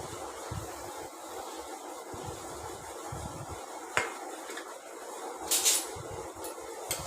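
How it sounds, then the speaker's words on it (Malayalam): Chopped onions and curry leaves sauté in hot coconut oil, giving a steady, soft sizzle with a few sharp metallic clinks of a utensil against the pan. "വെളിച്ചെണ്ണ ചൂടായപ്പോൾ അതിൽ കറിവേപ്പില, സവാള അരിഞ്ഞത്"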